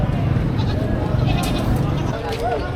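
A goat bleats briefly near the end over a noisy outdoor livestock market background with people talking.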